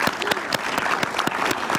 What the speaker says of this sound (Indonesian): Wow, tepuk tangan buat Kak Sili.